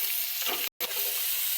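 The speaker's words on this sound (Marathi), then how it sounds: "आता आपल्याला फोडणी द्यायची" Spices sizzle in hot oil as a Marathi-style phodni tempering is made, a close, steady frying hiss broken by a brief dropout before the crackle resumes.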